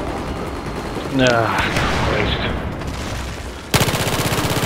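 Rapid gunfire from the Battlefield 4 video game on the Operation Locker map, a burst of shots under a short spoken remark, then a loud, fast rattling volley near the end.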